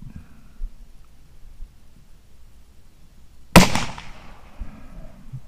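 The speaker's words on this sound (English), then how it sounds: "So the first shot, I'm gonna aim at the top of the dot" A single sharp rifle shot aimed at a target 6 yards away, sudden and loud after quiet, followed by a brief decaying echo.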